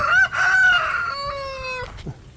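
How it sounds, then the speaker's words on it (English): A rooster crows once, loud and near, a long drawn-out call that rises and then falls away. "Chickens are crowing."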